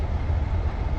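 A steam train on the Pullman Express service rumbles past at close range near Egton Bridge and Grosmont, a loud, continuous low roar of wheels and carriages with no speech.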